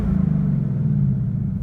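A 2018 Mustang GT idles in normal exhaust mode, a deep, loud, throaty rumble that stays steady and close with no revving.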